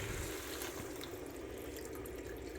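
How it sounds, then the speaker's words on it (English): Water pours into a cooking pot for split pea soup on a stove, a faint, steady splashing stream heard alone for a couple of seconds. "Okay, so now we're gonna add our water."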